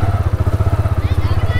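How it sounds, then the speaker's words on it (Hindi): Motorcycle engine idling close by while the bike is parked, a loud, even low-pitched putter with a fast regular pulse, with a voice briefly over it. "यहाँ पे जी पहले बाइक खड़ी करते हैं"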